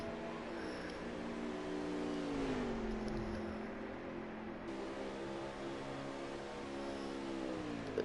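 Race cars roar past in a stock-car racing video game at an Auto Club oval, a steady engine drone with pitch sweeping down as a car passes by, fairly faint and continuous with no talk.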